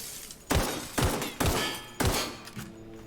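Gunfire aimed at a lens in the video game The Outer Worlds: four heavy, booming shots spaced roughly half a second apart, each with a thudding low punch and a trailing echo, loud and close with no voices.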